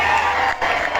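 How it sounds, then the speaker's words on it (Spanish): A live concert audience at an outdoor finca show applauds and cheers loudly in a dense, sustained wash of clapping that carries through the whole brief moment. "Fuerte aplauso, bien"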